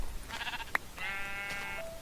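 Two bleats from a sheep in the Minecraft video game, short nasal game-sound calls with a brief click between them, standing alone over a quiet background.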